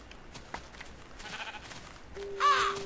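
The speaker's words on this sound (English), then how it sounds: "Ooh, there's another sheep." A Minecraft sheep gives a short, moderately loud bleat near the end, alone over quiet background with no talking.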